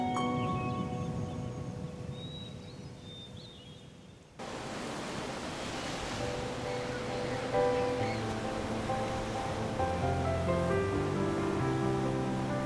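Ocean waves wash in a continuous broad roar, with a quieter stretch before a sudden louder surge that carries on under faint tonal background sounds.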